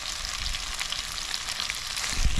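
Cut-up chicken leg pieces frying in a pan at a caravan campsite, a loud, steady crackling sizzle that fills the whole stretch without any talk.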